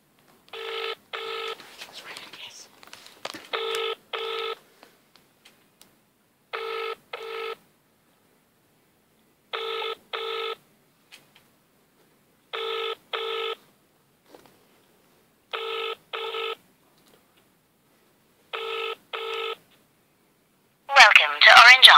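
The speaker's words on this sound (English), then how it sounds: "Answer the phone." A telephone rings in evenly spaced double bursts with long silences between them, sounding clear and close, and a voice comes in right at the end.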